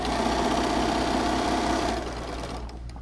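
A sewing machine stitches a pillowcase with a fast, steady mechanical whir and hum, running close and continuous before easing slightly toward the end.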